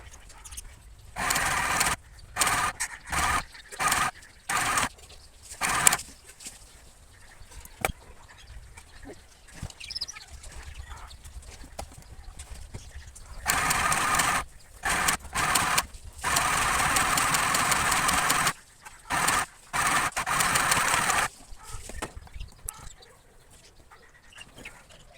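A small mini sewing machine stitches cloth in repeated whirring bursts, some short and some held for several seconds, close and moderately loud with quiet pauses between runs.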